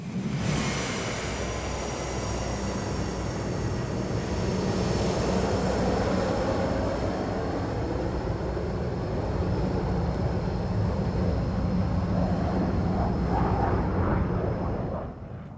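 RAF McDonnell Douglas Phantom jet fighter from 74 Squadron flying at an air show, a steady loud roaring jet rush sustained throughout, swelling slightly and then fading at the end.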